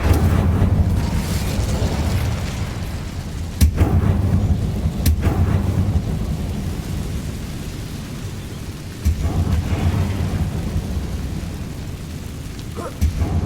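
Incendio fire spell cast in Hogwarts Legacy, heard as sharp bursts over a steady low roar, with several distinct whooshing flares standing out from the rumbling background.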